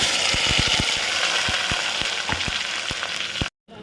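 Spice masala with crushed garlic frying in oil in a pan, giving a loud, steady sizzle with a few soft knocks, then cutting off abruptly near the end.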